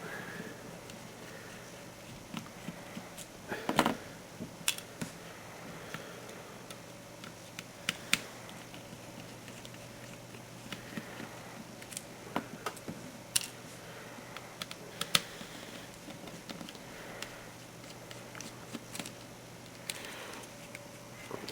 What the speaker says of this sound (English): Using your trusty T5 screwdriver,